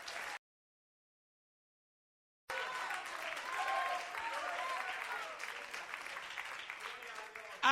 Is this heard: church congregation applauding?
yes